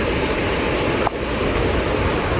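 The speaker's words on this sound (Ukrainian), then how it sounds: "тепер уже водоспад" Waterfall in the forest of Wells Gray Provincial Park, British Columbia, Canada, a steady broadband roar of falling water with no voices, loud and unbroken throughout.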